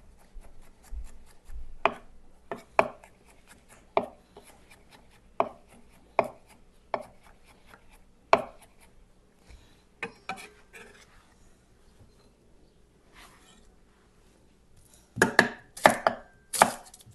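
Knife chopping onions on a cutting board for beef liver with garlic: sharp, spaced single thuds every second or so, close and clear, ending in a quick burst of rapid cuts.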